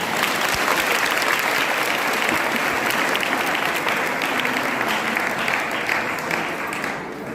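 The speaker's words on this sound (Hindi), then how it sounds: "आप ईशा और सौम्या के लिए जोरदार तालियां" Enthusiastic audience applause for young performers at a Govardhan Puja festival, a dense, sustained wash of clapping that holds strong throughout and eases slightly at the end.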